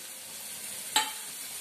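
Spices with half a tomato stirred and sautéed in a pan, a faint soft sizzle with one sharp stirring clink near the middle, no voices.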